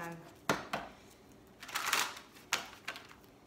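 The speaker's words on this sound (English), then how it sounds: "I think the cards are shuffled enough" Crisp riffling and tapping of tarot cards being shuffled, in several short bursts with brief pauses between, close and fairly quiet.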